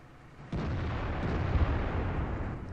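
Artillery shell explosion striking tanks in a tank video game: a sudden heavy boom erupts after a brief quiet moment, then a loud sustained rumbling roar continues for a couple of seconds.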